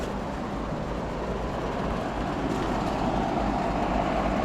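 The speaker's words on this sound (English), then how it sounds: "And here we got a train." A train rolls past near a site with HVAC units, its broad steady rumble holding even and loud throughout with a slight swell toward the end, and no voices over it.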